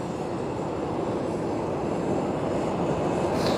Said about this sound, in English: we got planes going all over the place here